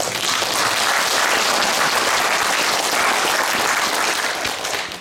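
A debate forum audience gives thick, continuous applause that stays strong and even for about five seconds before easing slightly at the end.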